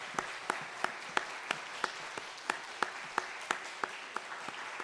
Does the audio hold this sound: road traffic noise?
no